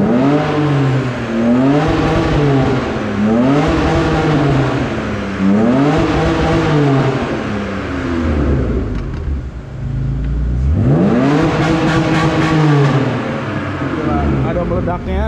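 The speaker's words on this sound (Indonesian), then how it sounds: "RPM-nya naiknya lebih cepet ya jadinya, karena pipanya digedein guys" A BMW E39 engine revs hard through an enlarged twin-muffler exhaust, rising and falling in repeated loud sweeps with a deep, rumbling tone and a bigger surge near the end.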